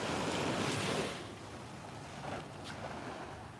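Ocean surf washes steadily onto a beach on a clear morning, a broad close hiss of breaking water that swells loudest early on, then settles into an even wash with light wind noise and no voices.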